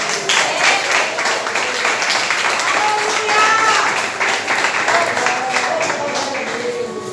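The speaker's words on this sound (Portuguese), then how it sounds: "Aplauda Jesus." A church congregation claps and applauds during a worship service, a dense, steady wash of hands with voices and singing mixed in throughout.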